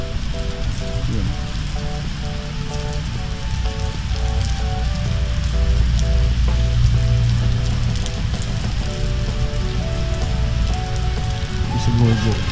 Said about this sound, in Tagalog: ngayon ang super lakas na ulan